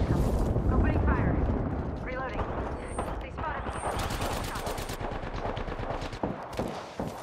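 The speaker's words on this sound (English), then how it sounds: "Opening fire" Rapid automatic gunfire from an Apex Legends match, with dense, sustained bursts of shots and sharp cracking reports mixed with game effects and a voice talking over the action.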